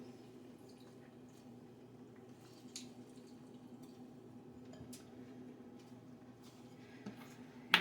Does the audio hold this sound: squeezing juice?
yes